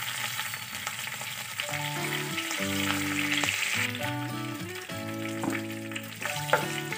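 Curry leaves and mustard seeds fry in hot oil, giving a steady bright sizzle throughout that sits under prominent melodic background music.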